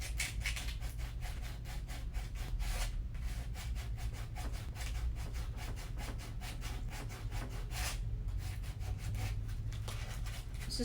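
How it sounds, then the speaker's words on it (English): Close, steady back-and-forth sanding of repair material on a Louboutin shoe, rapid regular scratchy strokes continuing throughout with no talking. "Sand it again."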